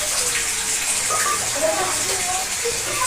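Water gushes from a tap into a filling container in a steady, close rush, with people talking over the flow.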